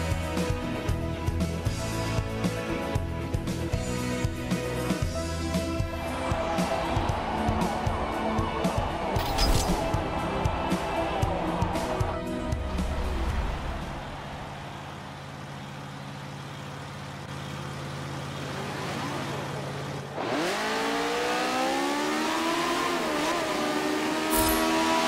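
Formula 3 race cars in the Forza video game roar through a race at Indianapolis, engines whining and shifting pitch as the field passes, loud and continuous with a brief drop before a rising gear sweep near the end.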